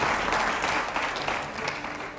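Audience applause during a press event with journalists, dense clapping that starts loud and gradually tapers off.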